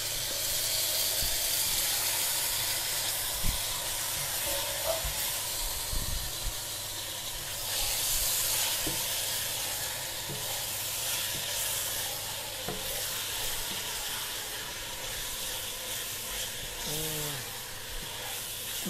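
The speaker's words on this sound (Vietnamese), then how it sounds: "Rồi, cho vào đây nó xào nha." Chicken and ingredients for Mi Quang stir-fried in a pot with turmeric, giving a continuous sizzling hiss with occasional stirring scrapes and clinks.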